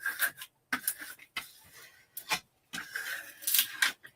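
Short bursts of scraping and rubbing as a scraper is worked over vinyl on a dry erase board, several quick strokes separated by brief pauses, close and fairly quiet.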